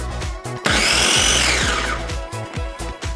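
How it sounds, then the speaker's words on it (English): A food processor whirs loud and close for a couple of seconds, briefly pulsing garlic cloves for homemade salsa, with a few short pulses and clattering before and after the main run. "We'll be using a food processor for this recipe."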